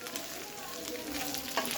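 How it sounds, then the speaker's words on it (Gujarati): Sliced bajra methi velaniya fry in a tempering pan over medium heat, giving a steady close sizzle with light crackles and stirring scrapes, no talking. "હવે આપણે એને મીડિયમ ગેસ ઉપર આ રીતે વઘાર કરવાનો છે"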